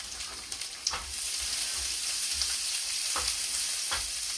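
Onions hit hot vegetable oil in a pan and fry with a steady, close sizzle, with a few bright stirring scrapes over it.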